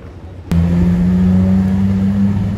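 A Ferrari LaFerrari supercar at a Paris supercar gathering starts a loud, steady engine rev that jumps in sharply and holds a strong droning tone, close by, with quieter street background before it.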